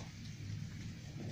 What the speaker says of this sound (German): Dieses recht schwere Gewitter tief in der Nacht. Es regnet auch schon leicht.